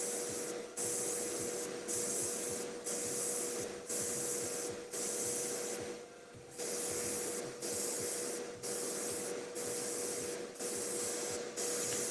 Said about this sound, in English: with an airbrush, you're shooting a cone of paint